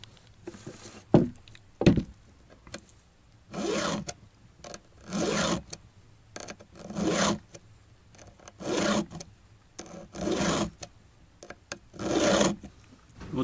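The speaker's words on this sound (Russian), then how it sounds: "Вот так буквально 5-6 движений напильником, и зуб снова острый." A chainsaw chain's teeth are sharpened with a diamond needle file in rhythmic rasping strokes, about eight separate bursts each a second or so long with short pauses, close up and fairly quiet.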